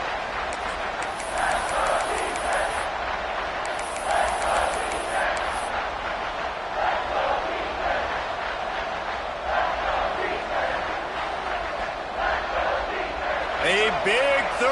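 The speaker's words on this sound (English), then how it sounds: "this crowd is ready" A college football stadium crowd roars and cheers before a big third down, a dense, sustained wall of noise with whoops and swells, while a play-by-play commentator talks over it.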